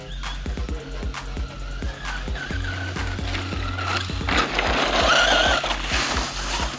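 An HPI Jumpshot SC V2 two-wheel-drive RC short course truck drives and jumps nearby, its electric motor whining and revving up and down over steady rhythmic ticking and crunching from the terrain, with no voices.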